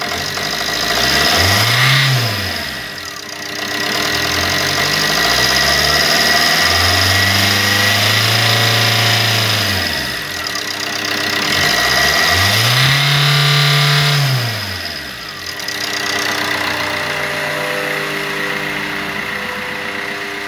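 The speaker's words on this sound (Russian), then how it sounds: "Работа двигателя на высоких оборотах." The 1.3-litre Z13DTH diesel of a 2009 Opel Corsa D is revved hard twice, each time climbing to a high whine, holding, then dropping back to idle, loud and close with no voices.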